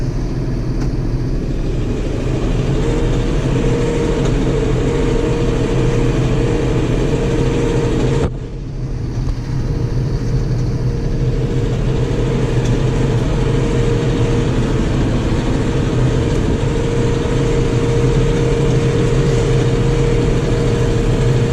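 A farm tractor engine revved up to 1600 RPM to run its PTO at 540 for pasture cutting, giving a loud, steady, close-up drone that holds evenly throughout, with one brief dip partway through.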